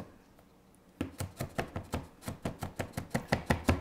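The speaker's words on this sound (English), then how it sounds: "Chop some very fine slices without cutting your hand, and then just chop it all around." A cleaver finely chopping a big garlic clove on a board: after a quiet second, a steady rhythm of about fifteen sharp, close knocks, evenly spaced and alone without talk.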